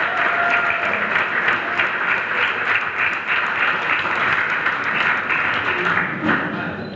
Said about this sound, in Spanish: Fuerte aplauso para todos.